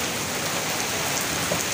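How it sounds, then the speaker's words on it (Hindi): Heavy downpour pounding steadily on surfaces while sheltering at a market, a dense, continuous hiss of rain close by with no talking. "अभी तो बहुत जोर शोर से बारिश, बहुत तेज बारिश हो रही है"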